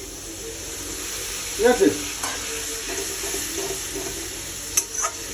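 Water poured into a pan of frying chili powder and spices for a Bengali pangas fish and potato curry sets off a steady close sizzle, with a brief stirring clatter and a short spoken remark.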